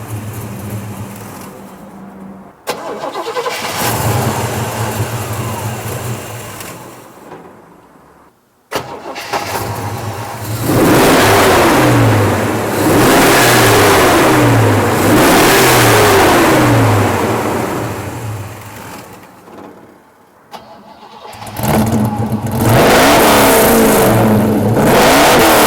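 A 1957 Chevy gasser two-door wagon fires up and idles with a loud, lumpy rumble, then is revved hard several times in rising and falling bursts, close and powerful, with a short cutoff before a final restart and rev.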